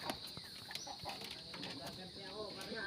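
A chicken clucks in short bursts near a pigeon loft, with flapping and scuffling among the birds, fairly quiet and close.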